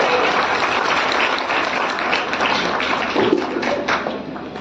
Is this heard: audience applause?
yes